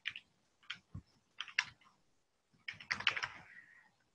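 Quick bursts of keystrokes on a computer keyboard, close and fairly quiet, with short pauses between clusters and a denser run of clicks toward the end, and no talk.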